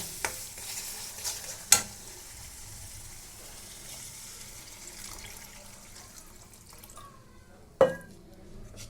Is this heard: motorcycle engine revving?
no